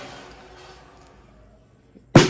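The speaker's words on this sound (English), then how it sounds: "So this is a snare drum." A single sharp, loud snare drum hit with a bright buzzy rattle from the snare wires, arriving after near silence.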